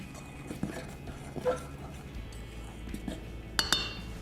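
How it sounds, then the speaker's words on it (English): A fork clinks and scrapes in a bowl while baking soda and kosher salt are mixed in for English muffin bread. The light taps are sparse and quiet, with a couple of sharper clinks near the end. "And I'm gonna mix it up with a fork"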